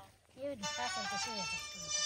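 A mobile phone ringtone plays a repeating melodic tune at home, steady and fairly close, while people talk over it.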